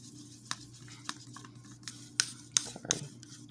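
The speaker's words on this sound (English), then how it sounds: "it just will stir a little easier, especially when you're doing this much paint at one time" Acrylic paint mix being stirred by hand for a Dutch pour, a quiet run of soft scraping strokes with a few sharper clicks and taps of the stick against the cup, close and alone.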